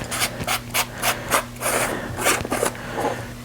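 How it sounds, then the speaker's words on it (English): The battery cap of a Navisafe kayak navigation light is unscrewed by hand, a quiet series of short scraping, ratcheting twists repeating at a steady rhythm with a faint electrical hum beneath. "So a way to get to the batteries is you just unscrew it"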